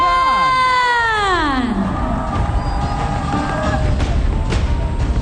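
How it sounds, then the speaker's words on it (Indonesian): A crowd at a political event cheers and claps for Prabowo and Gibran, a swelling mass of applause and shouting building after a long resonant musical tone, loud and sustained. "Tepuk tangan untuk Bapak Prabowo dan juga Mas Gibran"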